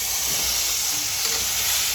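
Eggplant hits a hot pan of scorched spices over lowered gas and fries with a loud, dense, steady sizzle and hiss, close up and continuous throughout with no talking.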